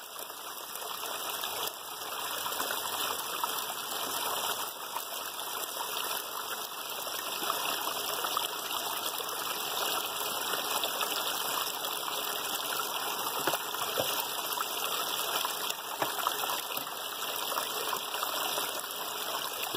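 Water rushes steadily through sluice buckets and lines, a continuous gushing wash with no breaks, fairly quiet and close throughout.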